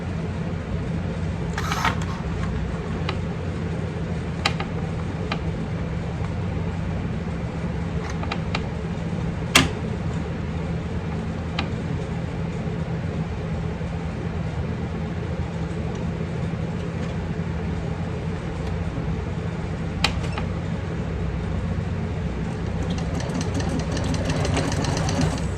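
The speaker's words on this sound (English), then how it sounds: "we're going to sew at 3/8 of an inch" A sewing machine stitches a handbag seam at a 3/8 inch allowance with a stitch length of 4, running as a steady continuous mechanical hum with a few sharp clicks and no talking.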